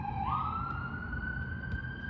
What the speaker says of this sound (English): Pardon the sirens, reading outside in the city.